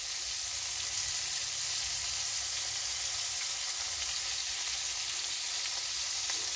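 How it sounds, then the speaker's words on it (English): Coated cod fillets sear in a hot pan, giving a steady, even sizzle that stays constant and moderately quiet throughout, with no talking. "And then we're going to just sear these."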